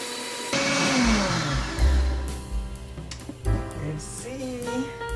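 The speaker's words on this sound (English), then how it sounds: "I'm going to place it right here on the blender." A blender roars close by, its motor pitch rising and falling as the contents churn, with rattling bursts throughout.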